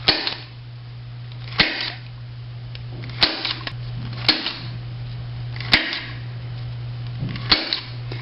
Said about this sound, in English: we can put a few staples in here.